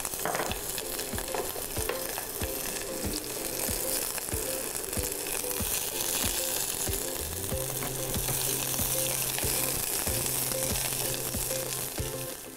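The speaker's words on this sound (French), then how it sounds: "Quand l'huile elle est chaude, on ajoute l'oignon et l'ail pour faire dorer un peu." Onion and garlic fry in hot oil in a saucepan, a close, steady sizzle with crackles and the scrape of stirring that carries on throughout, no voices over it.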